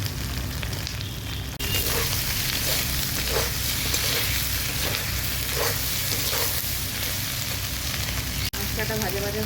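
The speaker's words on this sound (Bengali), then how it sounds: "মশলাটা ভাজা ভাজা হয়ে গেছে" Vegetables and spices for a Bengali dudh shukto sizzle and crackle steadily in a pan, a close, dense frying hiss with occasional stirring scrapes, continuous throughout with no talk.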